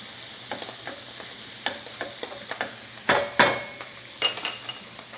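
Pancetta, mushrooms and corn fry in a pan with a steady low sizzle, broken by scattered stirring scrapes and a few louder clinks of a utensil against the pan.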